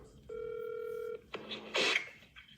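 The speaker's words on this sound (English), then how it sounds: "And I had a phone call coming in during that" An incoming call alert on a phone: a steady electronic tone holds for about a second, then shorter beeps and a brief burst of noise follow, faint and with no talk.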